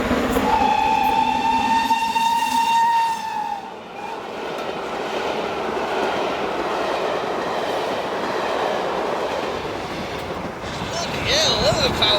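A steam locomotive sounds a long chime whistle for about three seconds, then rumbles and hisses past with heavy rolling clatter, and a brief squeal is heard near the end.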